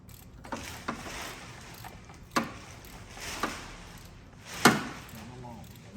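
Ratchet clicks and metallic tool knocks while spark plugs are removed from a Foxbody Mustang 5.0 GT V8 engine, a few sharp isolated snaps between quieter handling noises, close by.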